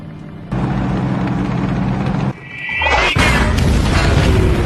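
Anti-tank cannon fire erupts in a wartime tank battle against German soldiers, a heavy booming blast followed by a loud, sustained roar and crashing debris, up close and with no voices.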